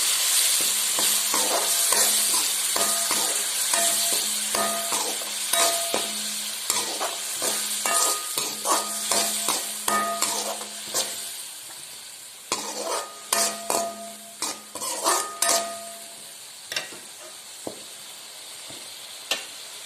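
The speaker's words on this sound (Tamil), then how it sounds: "பூண்டும் நல்லா விழுதா வதங்கிருச்சு" Garlic paste sautéing in a large kadai, a continuous sizzle broken by repeated scraping strokes of a ladle that grow sharper toward the end.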